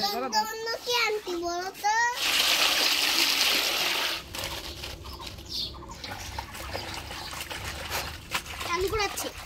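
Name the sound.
washing sweet potato greens in water and draining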